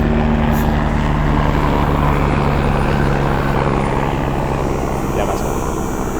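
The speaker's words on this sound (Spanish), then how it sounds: "Y tenemos aquí la compañía en un helicóptero." A helicopter passes overhead in an open natural setting, giving a loud, steady rotor drone and engine roar that fills the whole stretch without fading.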